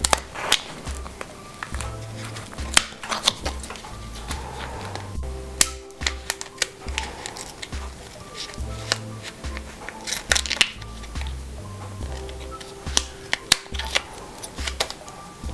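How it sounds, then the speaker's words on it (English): Blades snip and scrape around a plastic pot as a miniature Phalaenopsis orchid is cut free, with repeated close clicks and crunches in an irregular rhythm and soft handling noises between cuts. "I'm just cutting around every place where there is a root that is coming through the pot"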